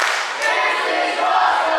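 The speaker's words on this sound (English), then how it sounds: "Listen to this crowd." Crowd at an RWA Legacy VI wrestling match between Brian Fury and JT Dunn, a roaring mass of cheers and scattered clapping filling the venue steadily and loudly.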